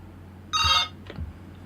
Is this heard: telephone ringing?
yes